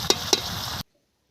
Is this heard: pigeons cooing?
no